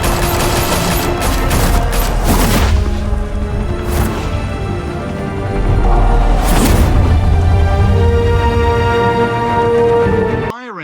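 Gunfire in Batman: The Telltale Series erupts as several sharp, loud blasts over a dense, continuous rumble of action, with voices mixed in.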